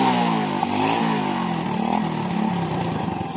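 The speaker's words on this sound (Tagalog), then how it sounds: "napandar natin sa bagong spark plug na kinabit natin" Small motorcycle engine running after being started with a newly fitted spark plug, a loud close idle with slight rising and falling pitch and rattly texture, no talk.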